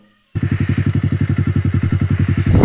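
Bajaj Pulsar 180 motorcycle starting to ride off, a loud, close, steady pulsing engine thump that kicks in abruptly after a brief silence and runs on evenly.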